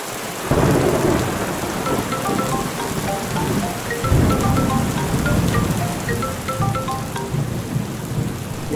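Heavy rain and thunder at night: a dense, steady roar of downpour with deep thunder rumbles rolling through it, loud and continuous, with no voices.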